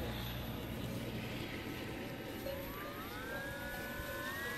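A Zeta FX79 Buffalo RC plane's electric motor whines at throttle for a hand launch, its pitch climbing steadily against a dense hiss of wind and outdoor noise.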